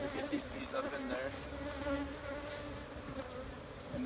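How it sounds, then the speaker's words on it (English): Bees buzz steadily around an open hive at close range, a dense continuous drone with individual insects passing near the microphone. "Oh, let's throw some more bees in here."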